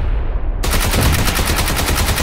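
Rapid automatic gunfire in a shooter video game: a loud, steady stream of closely spaced shots bursts in after a brief lull and keeps going.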